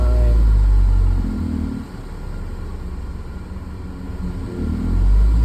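Car engine rumbling loudly close by, with two throttle kicks that swell the revs at the start and again near the end around a lower, steadier idle stretch in the middle.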